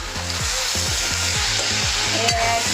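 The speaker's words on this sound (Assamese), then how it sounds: "এতিয়া মই কবি, বন্ধাকবি, আলু আৰু মটৰ ভাজি আছোঁ।" Cauliflower, cabbage, potato and peas sizzle steadily in a hot pan, a constant frying hiss with rhythmic scraping strokes of stirring.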